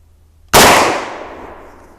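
A single sharp, loud shot from a Marlin 45-70 rifle cracks out of near silence and trails off in a long, fading outdoor echo.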